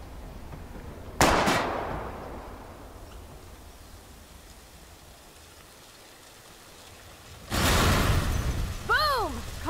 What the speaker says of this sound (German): Let's see what happens when you shoot the gas tank. Step back. Gas tank go boom.